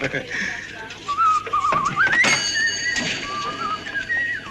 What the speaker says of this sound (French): Eh oui, je siffle.